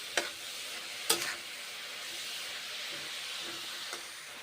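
Cabbage stir-fries in a pan with a continuous hissing sizzle, punctuated by two sharp spatula scrapes early and a few softer ones later.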